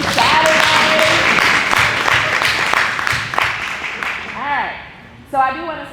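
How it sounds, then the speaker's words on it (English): An early Saturday morning crowd at a community panel on health inequities applauds briefly, the clapping loud at first and thinning out over a few seconds before voices talk as it dies away. "give yourself a round of applause for coming out this early Saturday"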